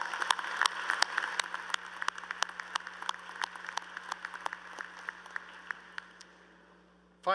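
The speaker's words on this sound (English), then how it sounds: "give them a round of applause" Audience applause at a university commencement ceremony, a steady spread of scattered claps from a large crowd heard at a distance, thinning out gradually over several seconds.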